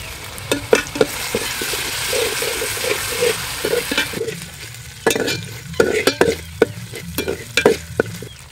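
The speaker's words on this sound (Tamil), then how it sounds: "இஞ்சி பூண்டு விழுது சேர்த்துப்போம்" Ginger garlic paste sizzles and fries in a hot pan while being stirred, with scraping strokes and steady crackle over about eight seconds; the mixture is for a country turkey gravy.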